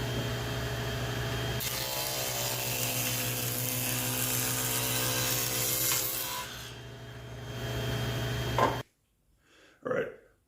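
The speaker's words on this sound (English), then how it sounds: "running it over a dado stack twice like you see me doing here" A table saw fitted with a dado stack cuts cedar, a loud steady whining motor with a rasping cut that runs several seconds, then drops off to quiet with a brief final burst.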